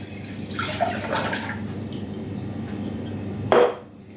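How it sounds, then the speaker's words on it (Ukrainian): Water poured from a container into a saucepan while making marinated cabbage, a splashing stream that rises, runs steadily, and ends with a louder final gush before fading. "я беру ось воду, виливаю в кастрюлю"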